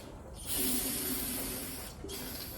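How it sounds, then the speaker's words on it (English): A can of brake cleaner sprays into an engine bolt hole during a 396 big block head install, giving a close, steady hiss in two bursts with a brief break between them. "I'm gonna shoot some brake cleaner down in the hole just to make sure."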